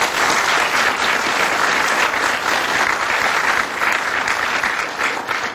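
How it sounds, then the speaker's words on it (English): Youth climate delegates at Parliament clap for themselves in loud, sustained, evenly dense applause that fills the whole stretch without letup. "I think you should give yourselves a big clap for that."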